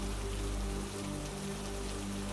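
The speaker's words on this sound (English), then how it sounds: "the rain is falling in a steady, relentless grey curtain, blurring the edges of the night into a single, dark smear" Steady rain falls at night as an even, continuous hiss of drops on surfaces, with a faint low hum beneath it.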